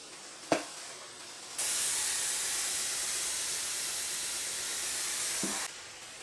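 A Vileda Steam Mop Plus steams across a floor, giving a steady, close broadband hiss that holds for about four seconds after a brief click, then cuts off with another click.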